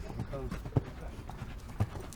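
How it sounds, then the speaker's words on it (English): Horse hooves clip-clopping as racing horses are warmed up, with a few soft, scattered hoofbeats heard faintly beneath speech. "Just tuning our horses up, see where they are, see if they're ready."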